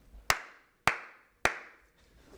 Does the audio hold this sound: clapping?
yes